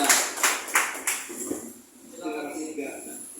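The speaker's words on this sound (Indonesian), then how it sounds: "Tepuk tangan untuk kita semua." A short round of clapping with sharp, spaced claps that fade out, followed by faint voices.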